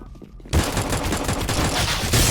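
Rapid burst of pistol gunfire from a USP in the video game CS:GO, loud continuous shots after a brief quiet start, with a second burst near the end.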